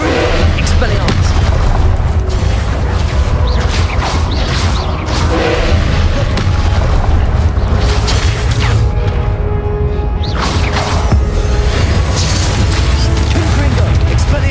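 Spell explosions from Confringo casts in the Hogwarts Legacy video game, repeated booms and crashes amid loud, dense combat effects, continuous through the scene with other spell sounds mixed in.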